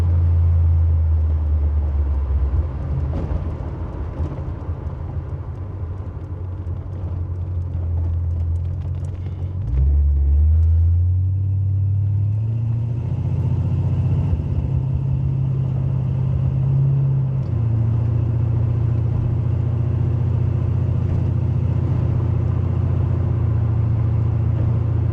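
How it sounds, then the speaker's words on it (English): A 1986 big block Buick Regal Limited with an oil leak under a full throttle pull on the road, a loud deep engine drone that dips, then climbs through rising gear pulls, heard from inside the car. "I'm gonna do a full throttle pull."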